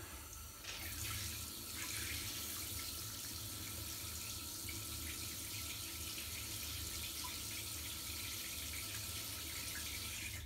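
Water from a shower runs steadily into a clogged shower drain, a loud, continuous rushing splash that starts abruptly and holds with no talking.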